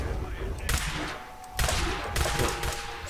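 Gunfire in the Fallout 4: Far Harbor video game rings out as several sharp bursts of shots spaced over a few seconds, fairly loud against faint background sound.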